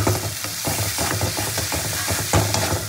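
Masala paste for a jackfruit and prawn curry is stir-fried in a pan, giving a close, continuous sizzle broken by repeated scraping stirs, with no speech.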